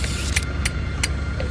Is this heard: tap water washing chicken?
no